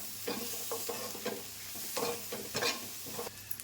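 Dry masala spices, red chili powder, a little pepper powder and half a spoon of garam masala, are stirred in a frying pan with a soft oil sizzle and repeated scraping strokes, fairly quiet and with no voices.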